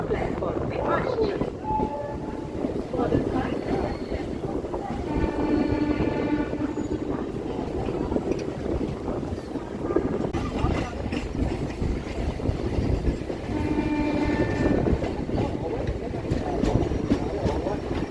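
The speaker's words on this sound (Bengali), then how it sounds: "গাড়ির সংখ্যা 18030 শালীমার লোকমান্য তিলক টার্মিনাস এক্সপ্রেস 1 নম্বর প্ল্যাটফর্মে আসছে।" Shalimar–Lokmanya Tilak Terminus Express train number 18030 arriving at platform 1 of a busy Indian station, a steady rumble of rolling wheels and engine noise under a station announcement and background chatter.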